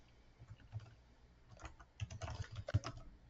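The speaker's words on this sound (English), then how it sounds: "You can either type the data directly into the field here" Computer keyboard keys clack in quick, uneven bursts as an email address is typed into a web form field, soft and close with no voices.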